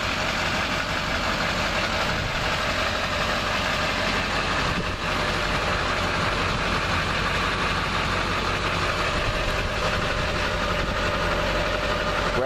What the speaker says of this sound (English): Truck's running, so you can probably hear the roar of that Duramax diesel.